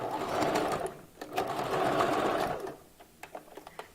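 A sewing machine whirs in two fast stitching bursts, sewing a wig, pausing briefly between them, then stops, leaving a few soft clicks and taps.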